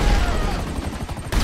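Rapid bursts of weapon fire from the video game GTA 5, a dense, loud rattle of shots lasting over a second, with some low rumbling mixed in.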